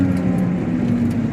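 A car engine runs steadily in first gear, a low constant drone with a faint hum beneath it, close and fairly loud for a brief moment.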